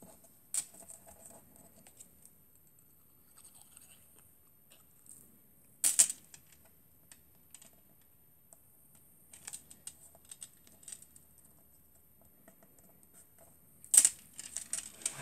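Quiet snips and crisp paper rustles come in small scattered bursts, with a few sharper cuts standing out against near silence.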